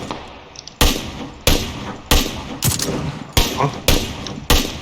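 Gunfire in the video game PUBG Lite on the Erangel map: seven loud, evenly spaced single shots, each a sharp crack with a short decaying tail, under faint voices.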